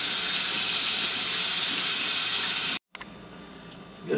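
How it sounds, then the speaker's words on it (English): Oyster mushrooms are rinsed under a running kitchen tap, a steady close hiss of flowing water that cuts out briefly and then resumes with lighter splashing. "You take about a handful of these, wash them off."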